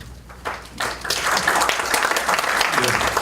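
An audience at a Pyeongtaek mayoral candidates' debate breaks into applause that builds within a second and continues as a dense, close clatter of clapping.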